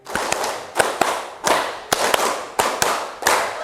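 A classroom of students claps together in sharp, loud unison bursts, a rhythmic pattern of claps repeated with short pauses between groups, with no talking.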